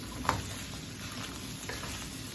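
Taco meat for Mexican street tacos fries in a pan with its liquid cooked off and some pieces charring, giving a steady close sizzling hiss with one brief sharp pop early on.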